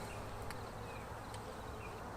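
Honey bees crowd a hive frame of drawn comb filled with pollen and nectar, giving a faint, continuous, even hum of many insects with a couple of tiny clicks.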